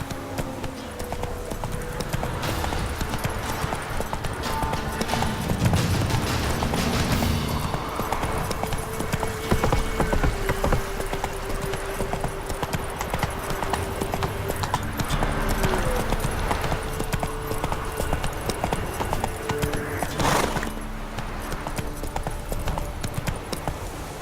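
Roach the horse gallops in The Witcher 3, hooves drumming in a continuous quick rhythm, loud and close over layered game music and ambience.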